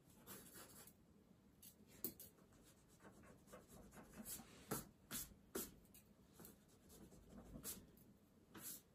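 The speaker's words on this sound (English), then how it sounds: "Sketching them some things out." Pencil sketching on paper during an art therapy class, with quiet scratchy strokes and soft rubbing throughout, punctuated by a few sharper taps and scrapes, close and faint with no talking.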